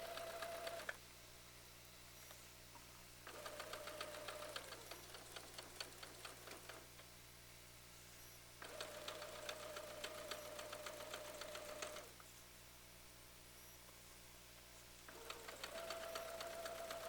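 Sewing machine chain-piecing quilt patches, running in several bursts of fast, steady mechanical clatter separated by brief pauses, with a constant low hum underneath throughout.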